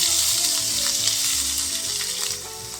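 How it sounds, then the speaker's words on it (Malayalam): Green grapes sizzle in hot coconut oil in a pan, a bright continuous frying hiss with small crackles and faint stirring, close and fairly loud, easing slightly near the end. "കുറച്ച് വെളിച്ചെണ്ണ ഒഴിക്കാം ഇതിലേക്ക് ഗ്രേവ്സ് ഇട്ട് ഒന്ന് ജസ്റ്റ് ഒന്ന് ചൂടാക്കി എടുക്കുക"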